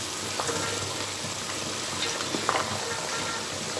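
Chopped onions dropped into a pan of browning meat sizzle steadily and loudly, a continuous crackling fry with a few stirring scrapes and pops close by.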